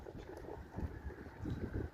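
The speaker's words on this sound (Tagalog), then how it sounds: "So wala na yung bagyo, malakas na hangin na lang natitira ngayon." Strong wind left over after a typhoon buffets the microphone in gusty, low rumbling surges that rise and fall, moderately loud and with no one talking.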